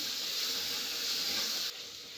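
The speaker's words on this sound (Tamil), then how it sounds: "தக்காளி நல்லா வதங்கட்டும். அப்புறம் இஞ்சி பூண்டு பேஸ்ட் வந்து பச்சை வாடை போகட்டும்." Tomatoes with ginger garlic paste sautéing in a pan give a steady, fairly soft broadband sizzle that drops slightly in level near the end, with no talking.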